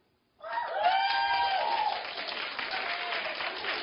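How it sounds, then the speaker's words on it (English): A talk show studio audience breaks into sudden, loud, sustained applause with scattered cheering, continuing steadily without letting up. "Some of the men clap, too."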